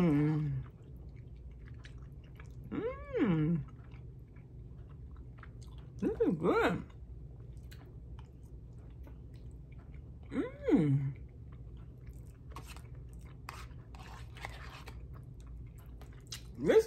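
Close, soft chewing of a budget Dollar Tree broccoli dish at a taste test, with wet mouth sounds and a few brief murmured voice sounds over a quiet room.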